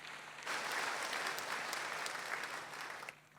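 A church congregation claps together during a worship service, steady dense applause starting abruptly, holding for about two and a half seconds, then stopping, with no voices over it.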